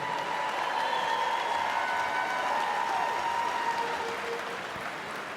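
Steady applause from a crowd at a state championship basketball game, with a few cheers mixed in, holding strong before easing slightly near the end.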